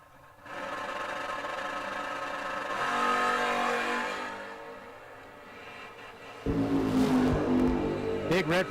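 Two drag racing cars, an S10 and a 1968 Camaro, run down the track; a steady engine drone swells and fades before a loud, sharp burst of revving, with an announcer talking over it.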